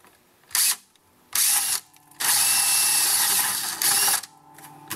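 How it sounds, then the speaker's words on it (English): A power drill bores a hole into an acoustic-electric guitar body for an output jack, in several loud whirring bursts of varying length separated by short pauses. "I'm going to drill a hole into a perfectly good guitar."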